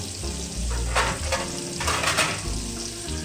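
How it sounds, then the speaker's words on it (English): Homemade ketchup cooking in a frying pan sizzles steadily while being stirred, with a few louder scraping bursts of the utensil against the pan over a constant low frying hiss. "Stir up our ketchup"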